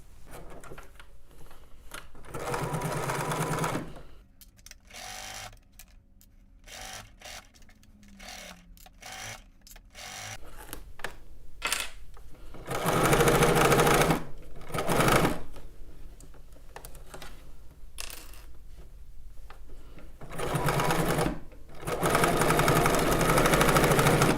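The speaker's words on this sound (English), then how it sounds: "Let's go ahead and head over to the machine and stitch this down." A sewing machine stitching down a garment seam runs in long, close, steady whirring bursts, broken by short pauses and a few quick start-stop runs, with no voices.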